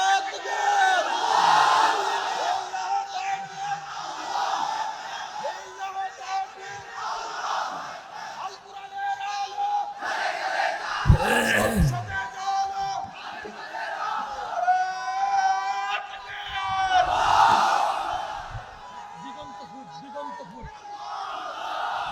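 A large crowd at an Islamic mahfil gathering of Mufti Amir Hamza shouts the takbir in unison: loud, swelling group chants rise and fall in repeated waves, with a single amplified voice leading between them.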